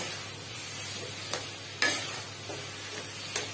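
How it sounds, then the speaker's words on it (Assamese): Steady oil sizzle as olives fry in a pan for pickle, with a few sharp clinks and scrapes of stirring; no voices. "এইখিনি মই কিছু সময় ভাজি থাকিম।"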